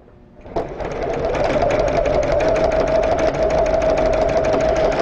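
An embroidery machine starts up after a brief quiet moment and settles into a loud, fast, even stitching rhythm with a steady mechanical hum, running alone and close by.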